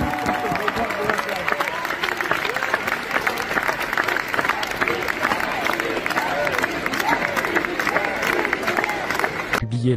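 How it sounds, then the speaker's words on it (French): Crowd applause greeting a campaign director introduced as a guest, loud and dense clapping with some cheering and a murmur of voices, cutting off abruptly at the very end. "Un tonnerre d'applaudissements."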